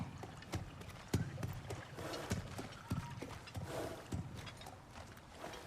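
Horse hooves clop in a steady, unhurried rhythm close by in God of War Ragnarok, with occasional soft snorts over low mechanical background sounds.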